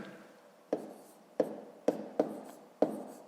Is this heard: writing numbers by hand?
yes